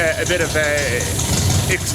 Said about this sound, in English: So the engine will tick over.